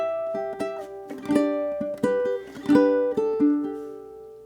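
Ukulele picks a phrase from Scarborough Fair, plucked notes and chords in a steady rhythm including a sliding note, played solo and close with bright ringing strings.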